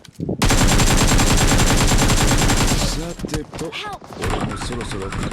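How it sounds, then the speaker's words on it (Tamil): Rapid automatic gunfire from the battle royale game BGMI on the Erangel map, loud sustained bursts of close shots followed by scattered shots with a voice talking over them. "இங்கதானே ப்ரோ எங்கேயோ சுட்டான்."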